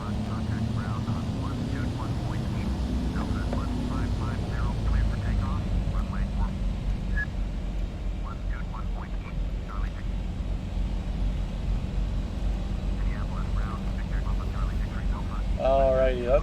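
DHC-6 Twin Otter twin turboprop engines idling and taxiing in Microsoft Flight Simulator X, a loud, steady droning hum that runs throughout with a low rumble and a few faint tonal chirps on top.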